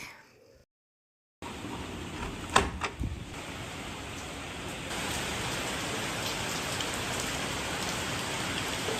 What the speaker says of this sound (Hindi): और जैसे ही हमने डिनर किया उसके बाद तेज़ बारिश शुरू हो गई थी